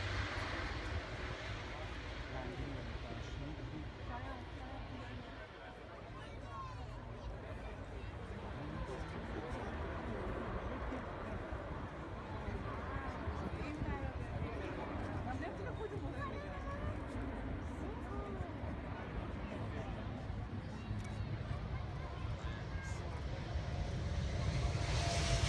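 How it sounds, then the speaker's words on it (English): Airbus A400M Atlas military transport aircraft flying a display at the Farnborough Airshow, a steady, loud turboprop engine roar that holds for the whole stretch and swells slightly toward the end, with faint crowd babble underneath. "Here is the A400M Atlas."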